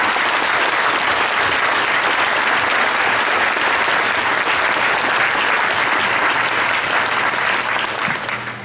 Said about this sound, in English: please give a round of applause for all of our students